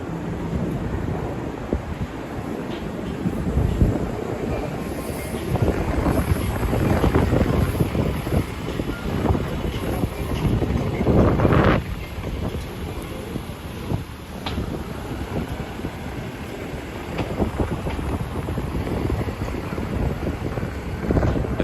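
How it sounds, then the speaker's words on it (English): Strong wind buffets the microphone at night in Lower Manhattan, New York City, a loud, steady rumbling roar that gusts harder in places and runs throughout with no talking. "I felt the strong wind, so we're gonna go ahead and plug in the mic."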